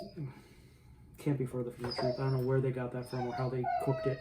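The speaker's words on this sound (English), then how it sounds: "Sorry about the dog. She's making too much noise." A female dog howls and whimpers in short, rising wails, some loud and sustained, running beneath someone talking throughout.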